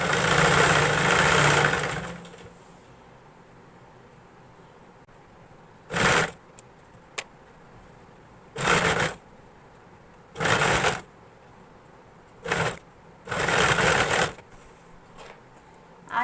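A sewing machine runs in several short bursts while stitching one side seam of fabric about an inch in, after a louder opening stretch of machine noise; the bursts are separated by quiet pauses.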